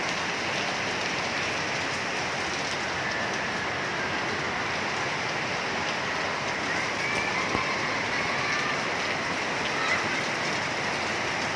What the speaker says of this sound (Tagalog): Halos di siya makita mga ka-idol dahil sa sobrang lakas ng ulan.